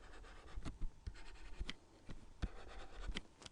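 Pencil or pen writing numbers on paper in close, quiet strokes, with soft scratchy scribbles and small taps repeating irregularly.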